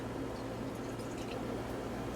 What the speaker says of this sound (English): First, I'm going to pour myself some wine.